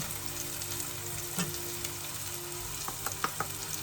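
Onions going into hot oil for a lower-calorie Egusi stew, a dense continuous sizzle with scattered pops and crackles, close and steady, with no talk.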